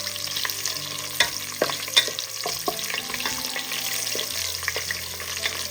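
Cashews and raisins roasting in ghee and oil for chicken biryani sizzle steadily in a pan, broken by sharp scraping strokes of a spoon every second or so, with no voices.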